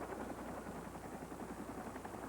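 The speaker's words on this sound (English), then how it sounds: "U.S. helicopters soon moved Honduran soldiers into the area." U.S. military helicopters flying in Honduras give a steady rotor chop and whine that holds at an even level throughout, heard alone without voices in an old, muffled broadcast recording.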